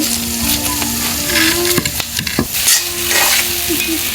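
Nigella seeds and other bharta ingredients frying in oil, turned with a utensil: loud close sizzling with repeated scraping stirs and a few sharp clacks against the pan.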